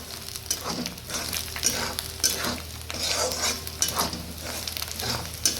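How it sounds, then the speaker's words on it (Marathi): Green chilies with peanut powder sauté over a low gas flame, a spoon scraping and stirring in repeated strokes against the pan above a soft, continuous sizzle, heard up close. "मिरची परतून झाली की त्यात अर्धी वाटी शेंगादाण्याचा पूट घालावा आता आपण ह्याला छान असे परतून घेणार आहोत"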